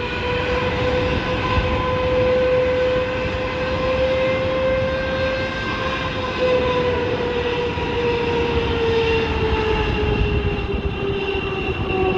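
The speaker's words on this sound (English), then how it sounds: "This trailer getting blown over by a Boeing 777 jet blast." A Boeing 777's jet blast blows over a trailer: a loud, unbroken jet engine roar with a steady high whine on top, close and constant for about twelve seconds, with no voices.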